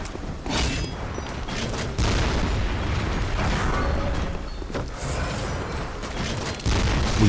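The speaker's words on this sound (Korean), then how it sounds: "자 이제 대포를 씁시다 대포 타임" Booming cannon blasts and rumbling mechanical noise from the video game Bloodborne, during the Mergo's Wet Nurse area, fill the clip, with sudden louder surges every couple of seconds.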